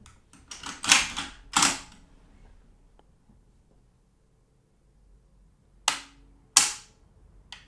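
Trigger reset clicks from a Palmetto State Armory AK-P pistol fitted with a light upgraded trigger: two sharp, close mechanical clicks, a quiet gap, then two more crisp clicks, with no talk.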